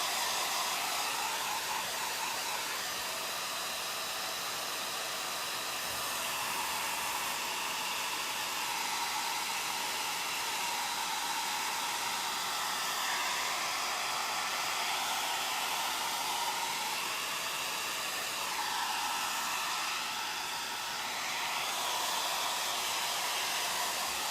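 Steady, close whoosh of a blow dryer aimed at a waxed cupboard door, a loud continuous airy hiss that shifts slightly as it moves, with no voices.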